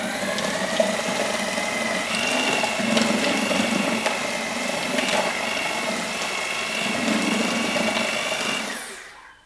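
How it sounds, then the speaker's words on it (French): A drill fitted with a paddle mixer whirs through plaster filler mixed with water, its motor whine steady with rhythmic scraping and churning pulses, close and continuous before stopping abruptly. "on va mélanger avec le mélangeur sur une perceuse"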